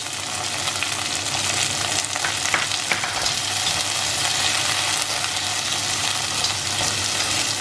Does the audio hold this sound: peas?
yes